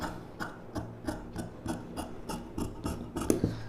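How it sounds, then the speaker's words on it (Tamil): Scissors snipping through silk saree lining blouse fabric, about ten crisp, evenly spaced cuts in a steady rhythm, close and fairly quiet with no talk. "இந்த ஷேப்பில் அப்படியே கட் பண்ணிக்கலாம்."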